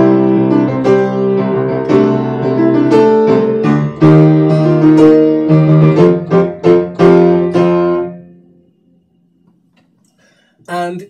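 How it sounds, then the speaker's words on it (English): The main theme of Doctor Puppet plays as a big, epic orchestral fanfare, bold brassy chords and repeated accented stabs building for about eight seconds before fading, followed by a brief final hit. "it takes the form of a big epic fanfare"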